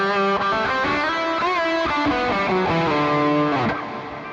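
Guitar played through an Earthquaker Devices Afterneath reverb pedal: a short melodic lead line of bright sustained notes, each trailing into a washy reverb tail that fades out at the end.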